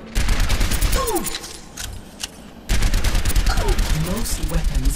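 Rapid bursts of weapon fire during training in the video game Overwatch, loud and close, in dense rattling volleys with a brief lull in the middle before firing resumes alongside game effects.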